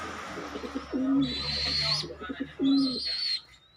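Pigeons coo nearby in two deep, rolling bursts, with faint high chirps and a voice talking over them outdoors.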